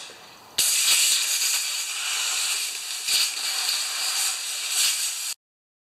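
Compressed air hisses out during repair of a jammed drive on a Craftsman EZ Walk mower: one loud, steady hiss that starts abruptly, holds for about five seconds with slight swells, then cuts off cleanly.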